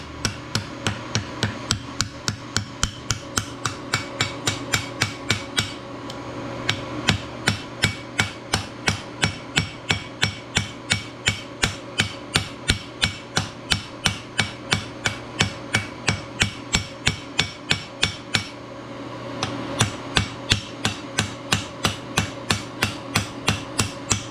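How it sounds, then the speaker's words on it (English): A hammer rivets and bends copper and wrought iron for a forged coffee scoop, striking metal in a fast, steady run of loud, close, ringing blows for the whole stretch with only brief pauses and no talking. "I'm also going to bend down this wrought iron."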